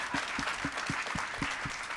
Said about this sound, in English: Please give another round of applause to Derrick, Danielle, Simeon, and C-Suite Da